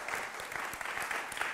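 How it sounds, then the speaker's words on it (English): A room full of people applauding voter registration volunteers at a community event, brisk dense clapping with individual claps popping through, moderately distant and without speech. "Let's give a round of applause for our voter registration people."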